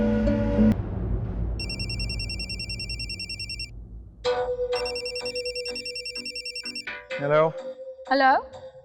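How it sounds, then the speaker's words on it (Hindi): A mobile phone's electronic ringtone rings in repeated melodic bursts indoors, loud and close, with pauses between rings and people talking around and after it. "मैं आपको कब से कॉल कर रही हूँ, आप फोन क्यों नहीं उठा रहे थे?"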